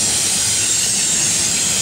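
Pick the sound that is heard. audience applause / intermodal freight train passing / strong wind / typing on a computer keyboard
intermodal freight train passing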